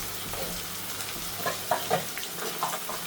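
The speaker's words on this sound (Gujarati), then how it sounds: "ઉપર તેલ આવી જાય અને સરસ થઈ જાય ત્યાં સુધી આપણે એને સાતળી લેવાનો છે" Methi gatta curry, Kathiyawadi style, sautéing in oil in a pan, giving a continuous soft crackling sizzle broken by a few light stirring scrapes.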